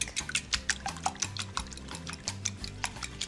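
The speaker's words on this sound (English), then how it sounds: "Now we're gonna whisk." Eggs whisked in a bowl with salt and black pepper, giving a quick run of rhythmic clicking strokes close up over a low steady background.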